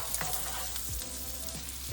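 Garlic and chilli fry in a pan for chicken adobo, giving a steady sizzle with a few soft scraping stirs, close and moderately quiet, with no talking.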